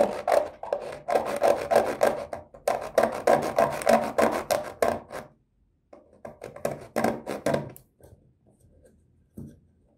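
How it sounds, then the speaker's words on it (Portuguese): A small knife gently saws a paintbrush handle in rapid, raspy back-and-forth strokes. Bursts of sawing are separated by short pauses, then come sparser, quieter strokes near the end. "passar a faquinha com bastante suavidade, assim, pra serrar sem colocar força"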